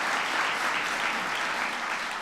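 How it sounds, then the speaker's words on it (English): An indoor audience at a presidential event on the Precision Medicine Initiative applauds Senator Lamar Alexander with a dense, even round of clapping, sustained and fairly close. "Lamar a big round of applause."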